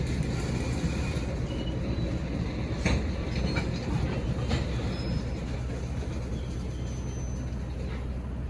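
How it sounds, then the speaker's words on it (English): A Union Pacific train passes nearby in Colorado near the Moffat Tunnel, its steady rumble and rail clatter holding loud and even throughout, with faint wheel squeal in light snow. "So this is the last time we cross paths with our train."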